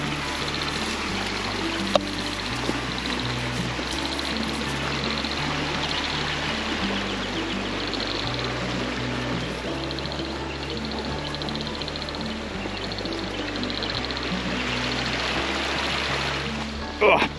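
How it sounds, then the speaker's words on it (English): A small stream flows near Harvey Dam, a steady, even trickle and rush of water that runs unbroken throughout, with low background tones underneath. "I can hear the water flowing."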